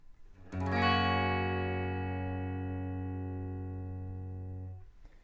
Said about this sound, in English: the first strings are being sounded by the index finger bar